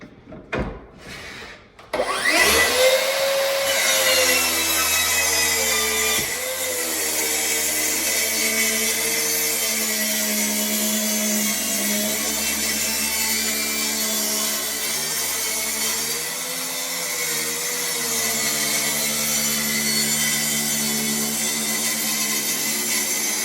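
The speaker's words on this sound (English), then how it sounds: "I've got the track saw set on a 15-degree bevel, and I'll show you why. But let's go ahead and cut this." A track saw set to a 15-degree bevel spins up with a rising whine, then cuts steadily through wood with a loud, sustained buzzing drone. Small shifts in pitch follow the blade's load along the cut.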